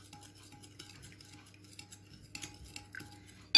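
A spoon stirs sugar into a pot of cake mixture for a mosaic cake, making soft, steady scraping and clinking against the pot, quiet and close, with no talk.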